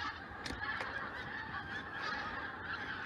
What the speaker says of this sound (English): All the geese are coming in for the winter.